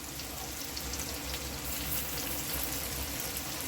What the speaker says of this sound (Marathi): आता याच पद्धतीनं सर्व वड्या फ्राय करून घेऊ